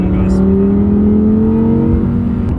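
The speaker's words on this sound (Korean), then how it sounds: "지금 엔진 소리가 여기에서 그냥 시원하게 바로 들어오네요." An Audi R8 engine revs continuously, heard loud and close from inside the car, its tone climbing steadily in pitch as it accelerates, with possible talk underneath.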